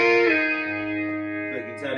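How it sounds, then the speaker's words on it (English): An electric guitar played through a Vox Valvetronix VT40X 10-inch 40-watt combo amp set to distortion, a few sustained, buzzy chords ringing loud and close with a light reverb tail. "I'm on a bit of distortion."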